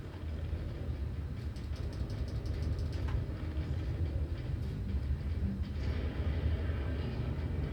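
A massive train in the video game Warhammer 40,000: Space Marine rolls past with a continuous heavy mechanical rumble and rattling clatter, loud and steady throughout, with no voices.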